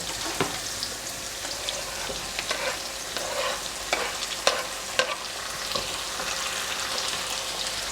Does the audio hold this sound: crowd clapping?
no